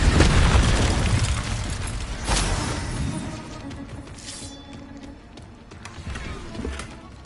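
Spell combat in Hogwarts Legacy with the Incendio fire spell, a loud booming blast at the start and another whoosh-burst near two seconds, then fading crackles and rumble trailing off.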